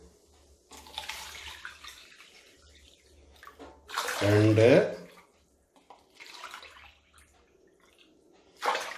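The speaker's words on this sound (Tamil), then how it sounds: "4 கப் அளவுக்கு நான் தண்ணி ஊற்றிருக்கேன்." Water is poured from a cup into a pot of sugar to make rasgulla syrup, with a short splashing pour in the middle and another at the end, while a person talks between pours.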